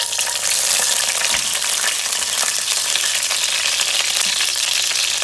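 Green chillies and curry mix fry in a pan with a loud, dense, continuous sizzle and the occasional soft knock of stirring.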